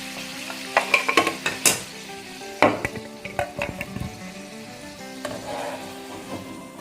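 Fried potatoes for Punjabi dum aloo sizzle in a little oil while a utensil scrapes and clinks against the pan in a quick series of close knocks, with a softer sizzle between, no talk.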